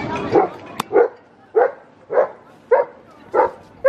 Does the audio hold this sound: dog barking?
yes